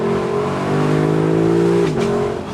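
A 2021 Lexus LC 500 convertible's engine revs hard under acceleration, a loud rising growl that climbs steadily for nearly two seconds, then drops at a gear change and carries on, with no talking.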